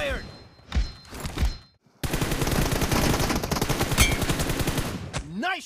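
Rapid automatic gunfire from the mobile battle royale game BGMI, a dense sustained burst of shots after a couple of brief lead-in thumps, loud and close with voices heard briefly around it.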